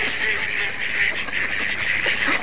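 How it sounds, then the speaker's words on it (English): Ducks quacking at Myrtle Beach, South Carolina, a steady overlapping chorus of many birds heard close and loud, with no talk over it. "Look at all these ducks"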